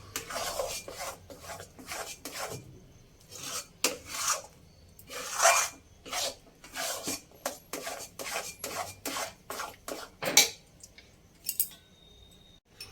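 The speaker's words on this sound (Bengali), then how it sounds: "দিয়ে ভালো করে মিক্স করে নিতে হবে এইভাবে।" Chana dal halwa stirred in a pan: a spatula drags and scrapes in steady rhythmic strokes, close and fairly loud, with brief pauses between bursts and no talking.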